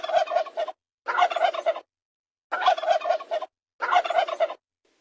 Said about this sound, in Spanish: El pavo.